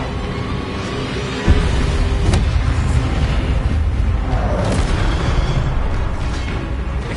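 A loud, deep fiery whoosh from the Incendio fire spell in Hogwarts Legacy swells into a sustained roaring rumble that fills the whole stretch, with no talking over it.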